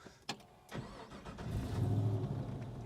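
A 1936 Ford pickup truck engine cranks with a few clicks, catches, and settles into a steady, rumbling idle outdoors in Las Vegas, close by with no talking.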